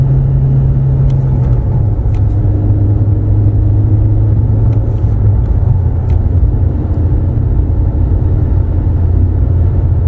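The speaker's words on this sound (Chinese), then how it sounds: "五档降三档，这也叫抢档。" Car engine in a manual-gearbox car at about 80 km/h, dropping from fifth to third with a double-clutch throttle blip, a steady loud rumble inside the cabin with a brief shift in engine tone early on.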